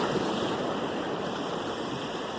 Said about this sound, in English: She's trying to catch the same wave I was trying to catch, where it splashes up over the rocks.